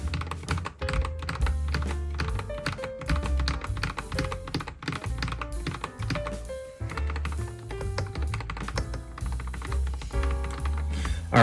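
Typing on a Keychron K8 Pro keyboard fitted with lubed and filmed Gateron Pearly White switches, a dense, steady stream of close keystrokes with muted thocky bottom-outs, alone and without talk.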